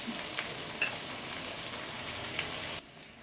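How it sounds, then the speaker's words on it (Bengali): Potatoes sizzle steadily in a hot pan, a constant crackling hiss with a brief stir, then it quietens. "আলুগুলো আমার ভাজা হয়ে গেছে"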